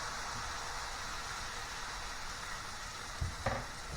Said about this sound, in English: A little bit of oil, and let's let's ladle another oatcake in there